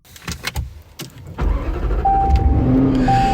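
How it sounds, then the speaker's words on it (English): A Jaguar F-Type R's V8, around 600 horsepower with all-wheel drive, fires up and settles into a loud, steady growl up close after a few sharp mechanical clicks, with no talking. "The V8's got a nice little growl to it."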